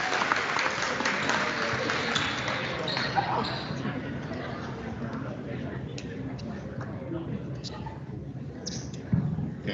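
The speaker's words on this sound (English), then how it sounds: "So one more round of applause, please," Crowd applause for HCC athletes in a gymnasium before a boys high school basketball game, a steady roar of clapping and cheering that lasts throughout and eases slightly toward the end.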